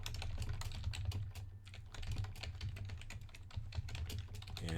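Typing on a computer keyboard at a desktop, a quick steady patter of close, crisp key clicks that runs the whole time over a low hum, with no speech.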